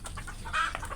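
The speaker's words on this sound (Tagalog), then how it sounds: "grabing dako ang tingog ning manok" A chicken clucks loudly in a short burst of sharp, close calls, with low background noise underneath.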